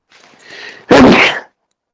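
A single loud, close sneeze: a short breathy intake followed by a sharp explosive burst lasting about half a second, then silence, in a quiet indoor room.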